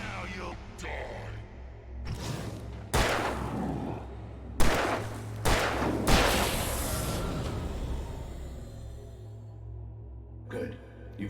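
Gunshots ring out in Alan Wake, several loud cracks and booms spread over the stretch with reverberant tails, alongside a low steady hum and a voice speaking.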